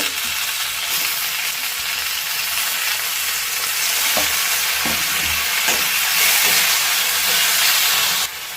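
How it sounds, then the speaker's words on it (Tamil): Shallots and tomato sauté in a pan for chutney with a loud, continuous hiss and sizzle close by, broken by soft scraping strokes of a spoon stirring the mixture. "இப்போ இது கூடவே தக்காளி ஆட் பண்ணிக்கலாம். வெங்காயம் ஓரளவு வதங்கிடுச்சு."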